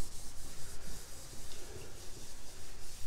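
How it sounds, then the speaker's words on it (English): Hand sanding of rough edges on a primer-coated surface during house construction in the Philippines, a steady rhythmic scratchy rubbing with repeated back-and-forth strokes, fairly close and continuous. "then sand down the rough edges"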